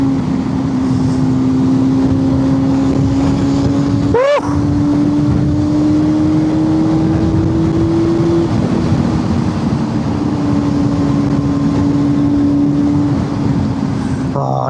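A motorbike engine drones steadily while riding up a mountain road in Ireland, with a sustained even hum, steady wind noise and a brief sharp shift partway through.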